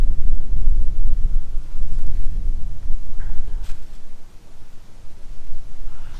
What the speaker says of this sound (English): Good northwest wind.